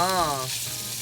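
Pork liver stir-frying in sesame oil: a short, close spurt of hiss and crackle, with a brief tonal whine at the very start.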